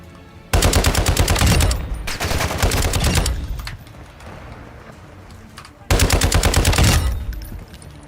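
Video game gunfire in a zombie survival shooter comes in two loud, rapid automatic bursts, each lasting over a second, with quieter rumbling and movement noises between them.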